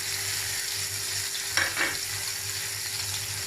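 Minced chicken sizzles in a pan with an even, close hiss. Two quick stirs or scrapes sound just past the middle, and there is no talking.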